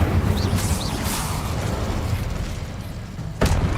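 An Incendio fire spell is cast in Hogwarts Legacy: a sustained roaring burst of flame with crackling rumble, ending in a sharp magical whoosh near the close.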